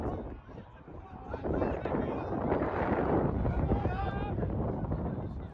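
Wind buffets the microphone beside a football pitch during an amateur Sunday league cup match, a loud, steady rumbling roar with faint distant voices from the pitch.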